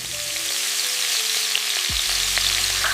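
Chicken hits hot coconut oil in a pan and bursts into a loud, steady sizzle that holds close and continuous to the end.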